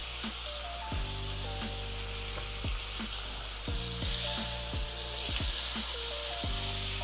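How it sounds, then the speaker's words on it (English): Fish fillets frying in a pan give a steady, dense sizzle throughout, close and moderately quiet, with soft pops and no talking. "we're gonna take these fillets and we're gonna cook them on each side for about 2 minutes each"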